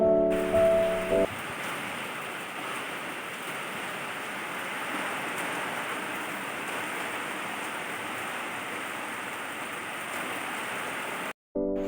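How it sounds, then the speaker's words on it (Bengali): Steady, heavy rainfall hisses continuously, a dense wash of drops on surfaces with no voices, briefly cutting off near the end. "এখন দেখছি বাইরে ভালো বৃষ্টি চলে এসছে"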